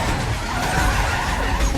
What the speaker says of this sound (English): sending the car's speed soaring to 120 miles per hour